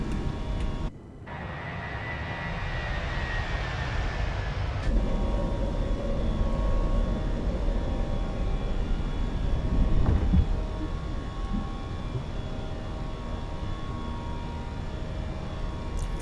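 Airbus A320 engines in Microsoft Flight Simulator 2024 rumble in a steady, loud roar while climbing after takeoff, with a brief dropout near the start and talk faintly over the drone.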